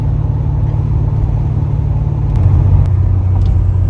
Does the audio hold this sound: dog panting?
no